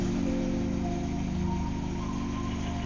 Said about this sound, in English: I'm just going to try first cold start.